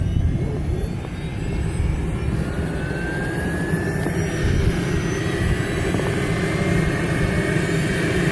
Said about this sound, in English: There goes the engine.